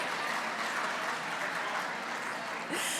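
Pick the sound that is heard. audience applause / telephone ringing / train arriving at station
audience applause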